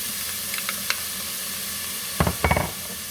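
Onions and peppers sauté in a pan for ham bone potato soup: a steady, gentle sizzle, with a few light clicks early on and a burst of louder stirring and scraping near the end.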